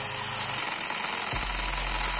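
A RYU RCI20V cordless impact drill grinds continuously into a masonry wall, loud and close, with a steady buzzing hammer rattle throughout.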